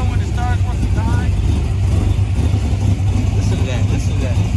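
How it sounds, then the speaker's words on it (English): A Ford Foxbody Mustang V8 idles close by with a steady low throbbing rumble, while someone talks over the engine throughout. "Listen to that. Listen to that. But it's idling good now."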